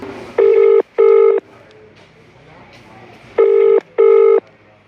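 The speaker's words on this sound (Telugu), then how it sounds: "సార్ యేసుఫ్ సార్ ఫోన్ చేయి." Four loud keypad dialing tones sound in two pairs, with a short pause between the pairs over a quiet room background.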